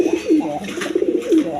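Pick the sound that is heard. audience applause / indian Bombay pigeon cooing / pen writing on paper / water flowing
indian Bombay pigeon cooing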